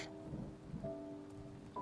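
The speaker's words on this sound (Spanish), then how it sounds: "Los rayos y el ruido de la lluvia me mantuvieron revolviéndome en la cama sin poder dormir otra vez." A nighttime thunderstorm with a soft low rumble of thunder under a quiet, steady wash of rain and a faint droning hum, with no voices.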